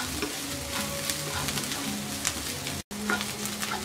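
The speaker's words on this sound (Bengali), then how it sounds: "পেঁয়াজটাকে হালকা ভেজে নেব।" Chopped onion and green chillies sizzling as they fry lightly in a pan, a steady near crackle with occasional stirring, broken by a momentary silent gap.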